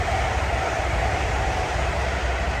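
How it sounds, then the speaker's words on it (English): A train passes at speed on a rail line, a steady loud roaring rush of wheels and wind with no break across the whole stretch, no voices. "there's a train going past"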